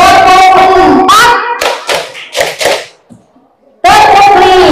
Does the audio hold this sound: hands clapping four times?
yes